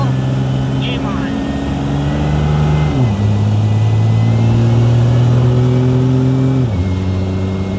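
Car fitted with a 5-blade 363 ball bearing turbo accelerates up a freeway entrance ramp on I-25 in Colorado, engine droning loudly and climbing in pitch through gear shifts, with a voice speaking over it.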